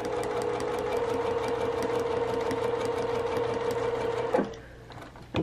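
A domestic sewing machine stitches quilt blocks at a steady rapid whir, loud and close, then slows and stops near the end.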